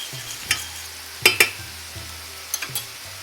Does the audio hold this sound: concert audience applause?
no